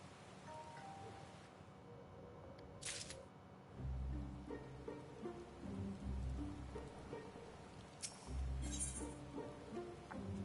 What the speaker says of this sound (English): While this downpour is precisely the result we were hoping for, the novelty of standing outside in the rain does wear off rather quickly.